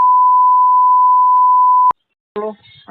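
A phone line tone sounds as one steady, loud, continuous beep for about two seconds, then cuts off abruptly. A voice follows shortly after.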